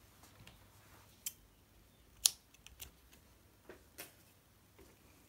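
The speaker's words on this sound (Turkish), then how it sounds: "Bir zincir çekip ipi kesiyorum." Scissors snip crochet yarn after a chain is finished, giving a few sharp, close, quiet clicks spaced irregularly against a near-silent background with no voices.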